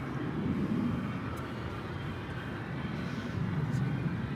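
An airliner at DFW Airport at night gives a steady, distant low rumble of jet engine noise that stays even and unbroken throughout, with no clear voices.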